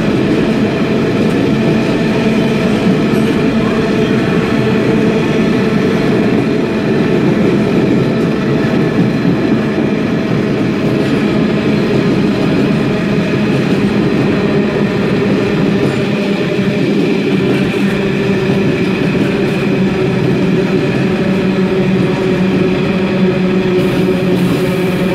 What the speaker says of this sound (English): passing through now, we have 66518 for freight